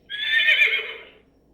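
A single horse neigh, a bright, wavering whinny lasting about a second, loud and close with nothing else around it.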